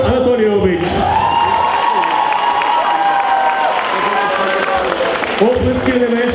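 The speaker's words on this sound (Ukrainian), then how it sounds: "Ваші оплески" Audience applauding and cheering throughout a festival hall gathering, a dense steady wash of clapping with crowd voices mixed in and a brief shout at the start.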